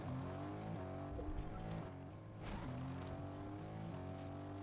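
Car engine in the Fortnite video game, a continuous revving drone that shifts pitch as the vehicle drives and accelerates, with a brief dip midway and no speech.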